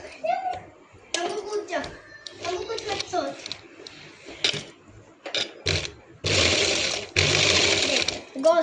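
A sewing machine stitches the crotch seam of a palazzo, sewing both panels together in steady bursts of rapid mechanical whirring, loud and close, with a long continuous run near the end and speech in between.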